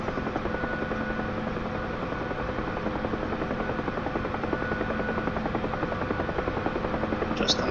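A Bell UH-1 Huey helicopter flies in a flight simulator game, its rotor producing a steady, close, loud chopping thrum with a constant engine buzz beneath.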